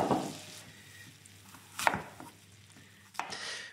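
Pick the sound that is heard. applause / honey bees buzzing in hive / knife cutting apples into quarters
knife cutting apples into quarters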